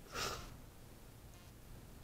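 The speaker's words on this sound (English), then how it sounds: "Big sniff." A single big, breathy sniff up close, short and sharp at the start, then only faint room hush with no talking.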